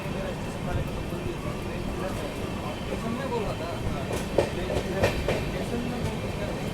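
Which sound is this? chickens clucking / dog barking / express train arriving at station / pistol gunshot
express train arriving at station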